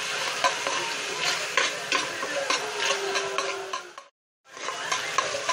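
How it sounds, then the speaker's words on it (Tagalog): Garlic, onion and ginger sautéing in a pan, with a steady close sizzle under repeated scraping and clinking of a utensil against the pan, then a brief silent break before the frying resumes. "Gisa nating mabuti yung ating bawang, sibuyas, at ginger"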